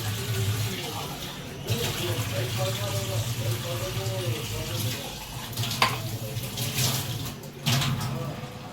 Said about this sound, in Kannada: ಚೆನ್ನಾಗಿ ವಾಶ್ ಮಾಡಿ ಹಾಕ್ತೀನಿ ನಾವು ಯಾವಾಗಲೂ.